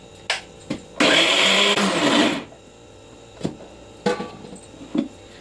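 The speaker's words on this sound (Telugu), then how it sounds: "మిక్సీ అయితే పట్టుకుందాం." Mixer grinder (mixie) grinding soaked lentils with jaggery: a loud, steady motor whir bursts on for about a second and a half, then cuts off, with scattered clicks and knocks of the jar around it.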